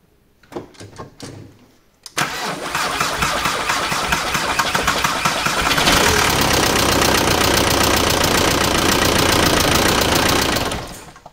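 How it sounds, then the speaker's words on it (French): A 1999 SEAT Toledo engine cranks with a few short bursts, then catches and runs steadily and loudly at idle for about nine seconds before cutting off, close to the microphone with no talk. "Je mets le contact. Démarre."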